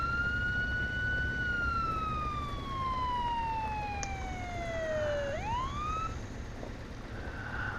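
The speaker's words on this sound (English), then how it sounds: "We'll hear a siren in a second." A siren in the Euro Truck Simulator 2 driving game wails loud and steady, its pitch sliding slowly downward, then snapping back up in a single sweep, with no talk over it.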